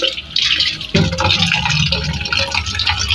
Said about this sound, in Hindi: सालन के लिए पानी भर रही है